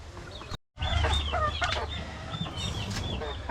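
Farm chickens cluck and chatter close by, with several birds calling over one another in a busy, continuous flock sound.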